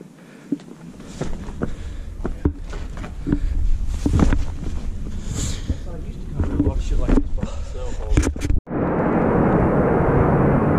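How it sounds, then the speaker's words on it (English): An F-18 Hornet military jet passes overhead in the outdoors of the Wichita Mountains, a broad roar that swells amid wind buffeting and people talking, then holds as a steady rushing drone. "F-18 Hornet. Where's the other one? They're always in pairs."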